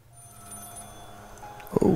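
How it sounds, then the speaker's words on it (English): Telephone ringing in the horror video game Maid of Sker: a faint steady tonal ring under quiet ambience, ending in a sharper, louder ring burst. "we can hear a phone ringing"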